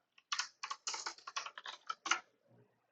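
Rapid keystrokes on a computer keyboard, a close burst of about a dozen crisp clicks in an uneven typing rhythm, alone in a quiet room.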